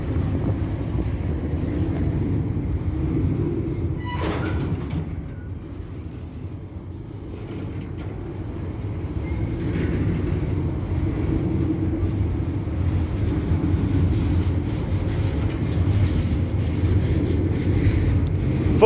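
A heavy freight train at Castleton rumbles past at close range with a continuous deep roar, rising and falling slightly as the wagons roll by, with no talk.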